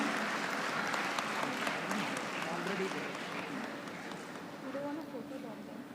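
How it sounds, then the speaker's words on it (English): At a PES University convocation, the audience applauds a first-rank graduate with loud, sustained clapping that fades a little partway through, while scattered voices carry underneath. "Let us give her a huge round of applause."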